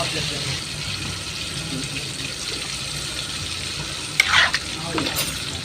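A stew in a pot at a small eatery kitchen is stirred while it simmers and sizzles, a steady frying hiss with a brief scraping clatter of the spoon near the end.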